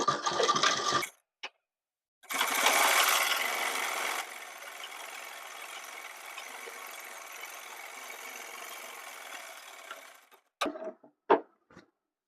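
A sewing machine runs a long, steady stitching pass along a gents shirt seam, starting with a louder burst and then settling into an even whir for several seconds. Short clicks and bumps come before and after the run.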